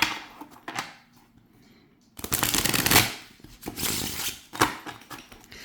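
Tarot cards being shuffled in quick riffling bursts, a short pause, then a longer dense riffle followed by several sharper flutters, close up with no talking.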